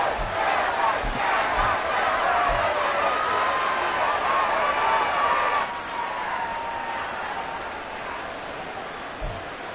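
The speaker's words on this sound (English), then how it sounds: "How about some applause for the defense there?" Stadium crowd at a football game roars for the defense after a big stop, a loud sustained wall of cheering and shouting that eases slightly toward the end.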